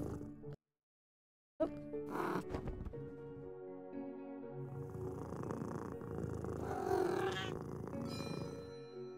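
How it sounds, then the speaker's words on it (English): Soft, continuous cat purr from a kitty tucked in a drawer in the puzzle game A Little to the Left, rumbling steadily for several seconds after a brief pause, with light chimes and music layered on top. "Oh, that purr sound effect."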